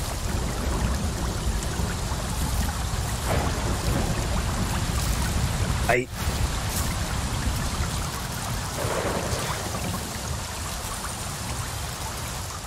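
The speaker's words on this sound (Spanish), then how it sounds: "No importa que esté lloviendo." Steady rainfall in Avatar: Frontiers of Pandora, a dense, even patter of raindrops on surfaces with a brief sharp crackle midway, continuing at constant strength with no talk.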